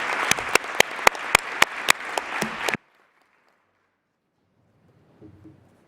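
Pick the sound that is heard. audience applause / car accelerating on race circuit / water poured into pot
audience applause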